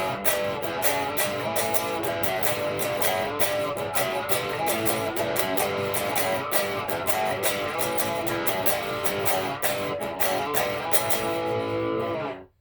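Full-band rhythm guitar pattern from the chorus, dense and steady with driving strums throughout before stopping abruptly at the end.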